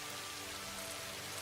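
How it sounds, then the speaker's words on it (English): Heavy rain weather from the video game Satisfactory pours down as a dense, even hiss of drops on surfaces, steady and unbroken for the whole brief stretch. "The rain is loud, isn't it?"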